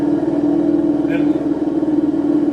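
Simulated engine note from an ESS Dual+ sound module played through a speaker on throttle, a steady droning rumble with a constant hum that swells slightly, under a faint voice.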